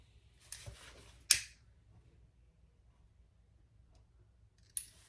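Scissors trim fraying strap webbing with a few crisp, isolated snips: a light cut, a sharper louder one soon after, then a pause before a final snip in a quiet room.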